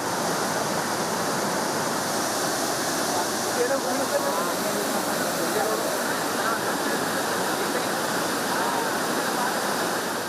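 Mallahalli waterfall on the Kumaradhara river in Kodagu, Karnataka, pouring in heavy monsoon rain: a steady, dense roar of falling water that holds unbroken and close for the whole stretch, with no voices.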